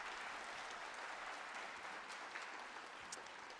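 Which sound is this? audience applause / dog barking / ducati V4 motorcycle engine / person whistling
audience applause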